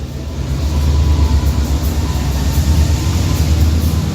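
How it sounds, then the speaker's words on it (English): A train passes beneath a bridge with a steady, loud, low rumble and faint rattling that holds evenly throughout, with no voices. "as the train goes underneath the bridge"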